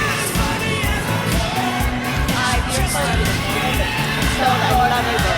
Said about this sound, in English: A big applause for Lana Parrilla.